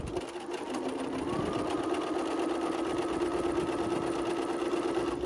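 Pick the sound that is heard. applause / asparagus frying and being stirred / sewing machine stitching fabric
sewing machine stitching fabric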